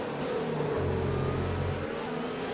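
Race car in an F1 racing game at the Austria GP drawing alongside, a steady droning engine note that grows louder and thicker for about a second before fading back into the continuous engine noise.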